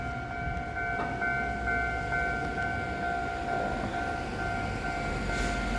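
Taiwan Railway TEMU2000 Puyuma tilting express, a two-set TEMU2037+TEMU2038 consist, passes steadily and loudly close by, its sustained horn tones sounding over the continuous rumble of the train.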